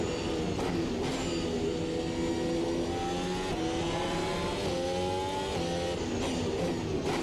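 A Formula Ultimate Generation 2 racing car engine in the game Automobilista 2 revving hard at full revs, pitch climbing through 4th and 5th gear changes, loud and sustained.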